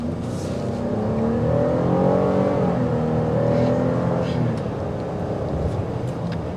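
A 2023 GMC Acadia Denali accelerates to catch up with traffic, a smooth, steady engine and road drone rising then easing from inside the cabin, with a voice speaking over it.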